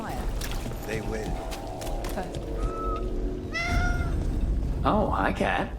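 A cat meows a few times in Dragon Age The Veilguard, short rising cries over steady background game ambience, with a person talking before them.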